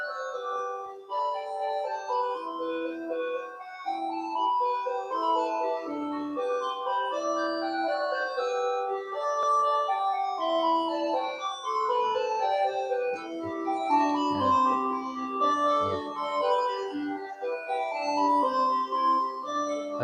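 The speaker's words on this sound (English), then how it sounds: "listen to how the three different melodies interact with each other" An 8-bit chiptune piece plays continuously, three bright square-wave melodies weaving over one another in quick, busy note runs, clear and steady throughout.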